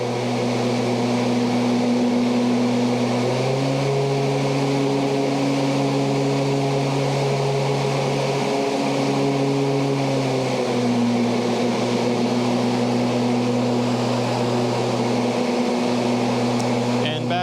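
Ryobi 46-inch 80V battery lawn tractor with its mower blades switched to high, a steady loud motor whir and hum that rises in pitch partway through and holds, continuous throughout.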